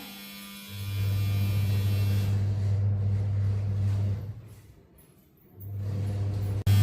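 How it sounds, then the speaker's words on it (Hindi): A washing machine runs at home while washing clothes, giving a steady, loud low motor hum that fades briefly near the end before picking up again. No one speaks. "मैंने मशीन भी लगा दी है, कपड़े धुल रहे हैं।"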